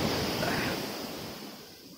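Surf rolls onto the shore at Kollam Beach in Kerala, a broad loud wash of breaking waves that slowly fades as the water recedes, with wind rushing across the microphone.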